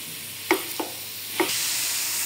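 Grated radish is stirred in a hot pan to cook it into a paste for mooli paratha, with a steady sizzle broken by a few scraping spoon strokes, and no talk.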